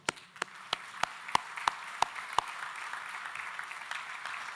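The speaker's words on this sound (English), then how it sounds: "will you clap them for their support?" Graduation ceremony audience clapping, starting with a few sharp, separate claps that quickly swell into a continuous wash of applause.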